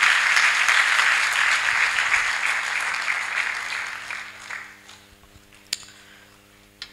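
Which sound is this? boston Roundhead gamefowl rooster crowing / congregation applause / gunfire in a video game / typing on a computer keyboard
congregation applause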